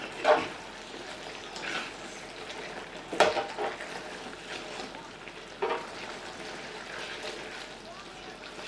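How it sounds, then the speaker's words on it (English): Steak and shrimp pasta being stirred in a hot pan, a steady soft sizzle with occasional scraping clinks of the utensil against the pan, close and moderately quiet. "Just want to stir this around."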